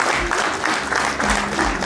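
Steady applause from a crowd of guests at a traditional Rwandan wedding, dense continuous clapping close by, with faint voices mixed underneath.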